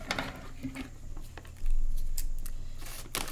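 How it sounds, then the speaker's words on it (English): Blunt scissors snipping through transfer tape for a car decal, a few close crisp cuts and rustles with a louder scrape midway. "you can cut off some transfer tape here. Our poor scissors are not the sharpest"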